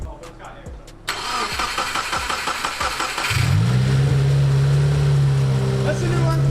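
A 2017 Subaru WRX engine cranks with rapid rhythmic turning on its first startup after walnut blasting, catches, and settles into a loud steady idle, with a voice shouting briefly over it.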